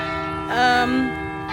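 Church bells ring in Copenhagen, a sustained bright peal with layered overtones swelling briefly, heard alone at moderate distance.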